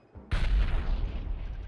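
Grenade blast in the VR shooter Population: One, a single sharp boom that bursts in after a short quiet moment and then decays into a long rumbling tail.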